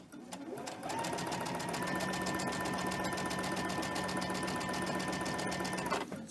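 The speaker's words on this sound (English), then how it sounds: "Let's cut these apart and sew them together." A sewing machine stitches quilt pieces together, its motor whirring up and running in one steady, rapid, close hum for about five seconds before winding down, with no talking.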